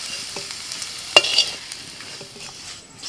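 Onion fries and is stirred in a pan, giving a soft sizzle with a brief scrape of the spatula partway through, close and fairly quiet, with no talking.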